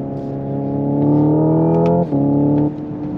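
A Hyundai Ioniq 5 N electric car plays simulated combustion-engine sound, a droning tone rising in pitch, then a quick dip and jump as a gear shift is mimicked, steady and close with no talk.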